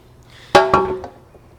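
Spray cleaner is spritzed onto a 2009 Ford Ranger transmission pan in two quick close bursts, the first louder, followed by a faint trailing hiss.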